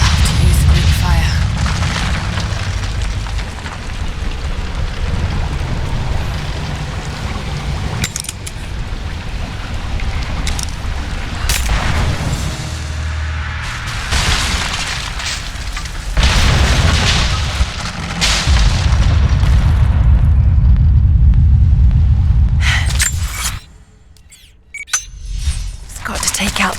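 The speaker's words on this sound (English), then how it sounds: "Looks like I'll have to use Greek fire." Greek fire explosions in Rise of the Tomb Raider (20 Year Celebration Edition) bring repeated heavy booms and rolling rumble over a long stretch, with a voice at times and a sudden quiet drop near the end.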